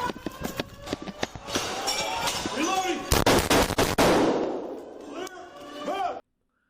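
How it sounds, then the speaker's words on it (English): Rapid, almost continuous gunfire at a school shooting: sharp bursts of shots crack and echo among running and shuffling sounds, a dense loud barrage that breaks off into silence. "the source of the gunfire, which is almost continuous at this point, as Hale shoots down at officers' cars"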